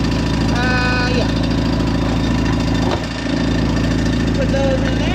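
A tractor engine idles loud and close with a steady low rumble and rhythmic knock on a farm, while a person talks over it.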